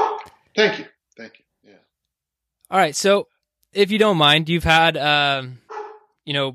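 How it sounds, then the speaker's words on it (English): A dog barks at the mailman in short, scattered bursts between and beneath a conversation between people talking nearby. "that's my dog barking at the mailman"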